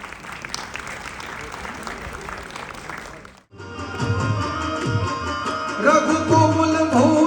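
Audience applause at a Gujarati folk dayro during a Jalaram Jayanti celebration in New Delhi, a steady dense clapping that breaks off briefly, then returns louder with music and singing underneath.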